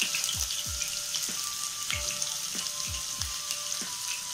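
Chopped onion, green chilli, cabbage and other vegetables frying in hot oil, a continuous crackling sizzle with several soft thuds and pops at irregular intervals, close and moderately loud, no speech.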